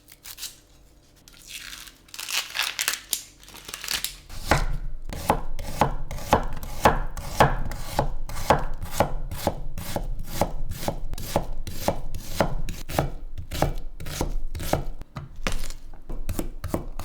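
Fresh tomato grated by hand on a grater for a tomato sauce, a fast steady run of rhythmic scraping strokes, close and distinct after a few irregular rubs at the start, with no talking.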